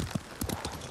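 Horse hooves clip-clop in a quick, uneven gallop while riding in Ghost of Tsushima, several distinct thuds across a single second, moderately loud and close with no talking over them.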